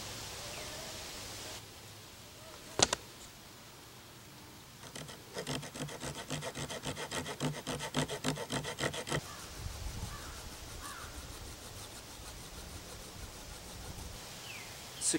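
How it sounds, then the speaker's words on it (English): A wooden stick being cut lengthwise with a blade: a few seconds of fast, even rasping strokes, close but quiet, after an earlier sharp tap, against faint outdoor hiss. "Rotate the stick 90 degrees and make another cut of the same length."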